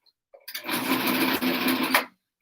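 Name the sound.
sewing machine stitching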